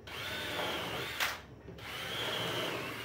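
A power drill drives screws into the lower part of a wooden bench that converts into a table, with a steady whine, a short pause and then another steady run, close up.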